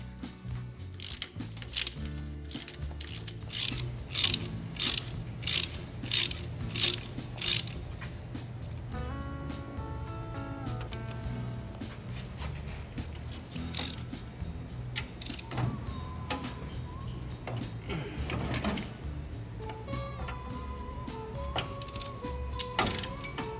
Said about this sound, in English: we've been able to remove the nuts off of all the studs down through the cylinder head